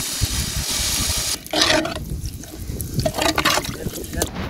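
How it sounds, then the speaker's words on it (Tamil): Water is poured into a pan of spicy quail 65 gravy, giving a liquid splash and sizzle that comes in bursts, with background noise between pours. "தண்ணி ஊற்றுறேண்ணா."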